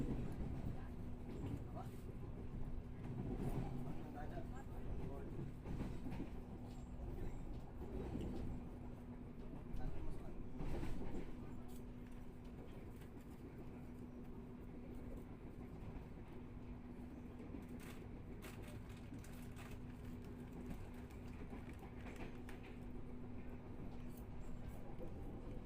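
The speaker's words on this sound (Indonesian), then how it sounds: "KA Blambangan Express tengah melintas di jalur kereta Pantura Barat peninggalan SCSM" The KA Blambangan Express passes on the coastal Pantura West line between Cirebon and Semarang beside the Java Sea, a steady, continuous rail rumble with a faint sustained tone running through the whole stretch.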